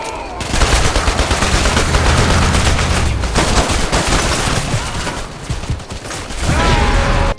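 Enemy soldiers in the video game Hatred fire guns at an army base, producing dense, continuous rattling bursts of automatic gunfire and overlapping shots that barely let up across the stretch.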